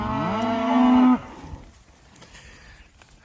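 A Murray Grey cow on a hot-weather cattle drive lets out one loud, close, drawn-out moo that cuts off abruptly, followed by quiet farmyard background with no talking.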